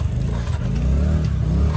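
Motorcycle ride, with an engine droning steadily close by and a constant rumble of wind and road noise, and no one talking.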